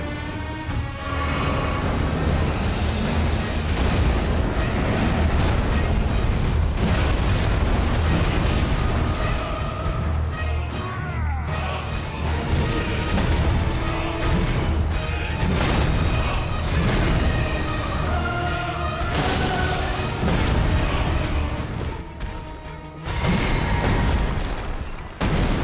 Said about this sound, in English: Oh yeah, the double explosion.